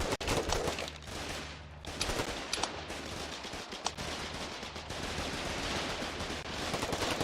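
Massed gunfire in the war game Foxhole, continuous overlapping rifle and machine-gun bursts with sharp individual cracks over a dense battlefield din.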